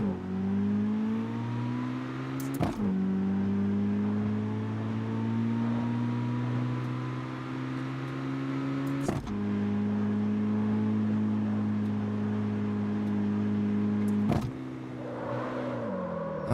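A car engine in the street-racing video game CarX Street drones steadily at a sustained pitch, broken by three brief sharp clicks like gear shifts, loud and continuous with no talk.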